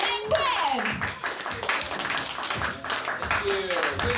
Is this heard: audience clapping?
yes